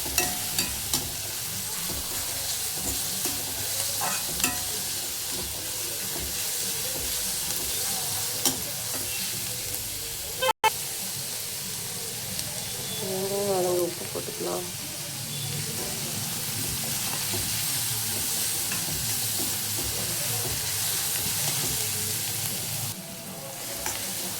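Onions sautéing in a pan for a brain-and-egg stir-fry, a steady close sizzle with scraping stirring strokes, one sharp clack midway and a brief pause, and faint voices in the background.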